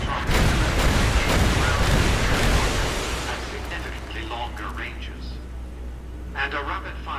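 A Securitron firing its M235 missile launcher in Fallout: New Vegas, a loud rumbling barrage of launches and blasts for about three seconds that fades into a lower drone, with a voice speaking over the later part.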